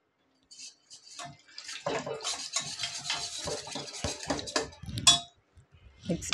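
Idli 65 mixture, made fairly watery, being stirred in a bowl, giving several seconds of close, busy scraping and sloshing clatter with a short pause near the end.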